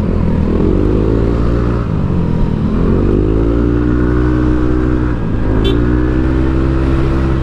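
A Yamaha NMAX V2 scooter fitted with an RS8 DC8 exhaust pipe accelerates, its engine note rising steadily, dipping briefly as it shifts load, then climbing again, loud and close throughout with no talk.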